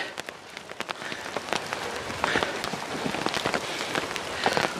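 Steady rain falls outdoors in a farming area, a dense hiss of drops striking surfaces with scattered sharper splats throughout, fairly close and continuous with no voices.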